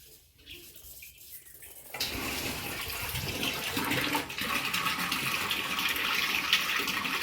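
Water gushes from a worn, damaged hose pipe, starting with a low trickle and then bursting into a loud, steady rushing spray that continues close by without pause.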